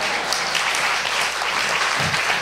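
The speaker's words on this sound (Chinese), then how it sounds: "如果要拍手，就现在拍手" A church congregation claps its hands together in worship, a dense steady patter of many hands that fills the room for a couple of seconds without pause.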